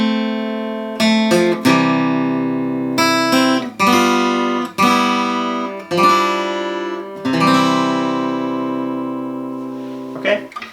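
Guitar playing the closing bars of a simple method-book piece: clear plucked notes and chords that ring out and spread further apart toward the end, slowing dramatically before a final sustained chord.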